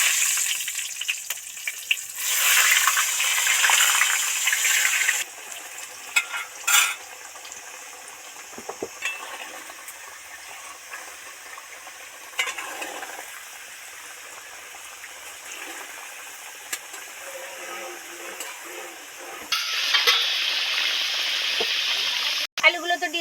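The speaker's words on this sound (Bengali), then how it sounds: "এবার একটা একটা আলু তেলের মধ্যে ছেড়ে দেবে" Potatoes deep-fry one by one in hot oil for mutton curry. A steady close sizzle swells louder at moments as pieces go in, then settles into a continuous bubbling hiss.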